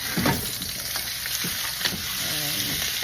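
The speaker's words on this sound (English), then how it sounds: "You're just gonna toss it until all the seasoning mixed all together." Shrimp stir-fried with vegetables, seasoning and onion for salt and pepper shrimp, a dense close sizzle with tossing and stirring scrapes throughout, no voices.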